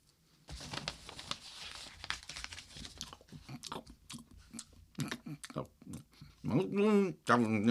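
A Tootsie Roll candy is unwrapped and chewed close to the microphone. Crinkling wrapper sounds lead into wet, sticky chewing and mouth noises, ending with a few strained, voiced hums.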